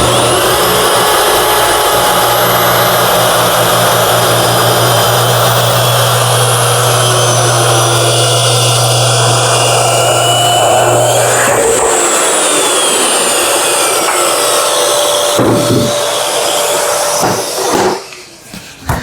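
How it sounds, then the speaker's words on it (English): A plunge track saw cuts through a board for drawer faces and aprons, a loud continuous whine with a steady motor hum and broadband cutting roar that drops as the blade winds down near the end. "with this track saw, you can turn it on with one switch and then you can release the brake on it and it'll plunge down into your piece"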